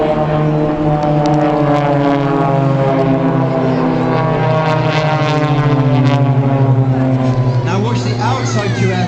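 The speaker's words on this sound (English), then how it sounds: "watch the middle two aircraft, boys and girls, as they fly upwards and then actually fly backwards through their own smoke" Aerobatic display aircraft fly over the pier at the 2011 Saltburn 150 air show, giving a loud, steady propeller-engine drone whose pitch bends near the end as they pass close by.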